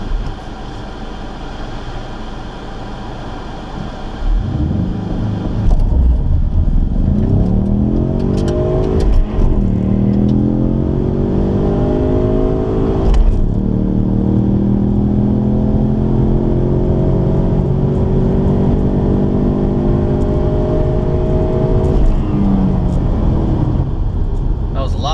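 A stock 2018 EcoBoost Mustang launches from a standstill and accelerates down a quarter mile, the engine rising through gear after gear in loud sweeps, with speech in the cabin at points.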